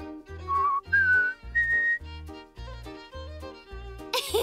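A cartoon character whistles to teach a parrot, a bright melodic whistle with sustained and sliding tones over steady cartoon background music, ending in a brief noisy burst.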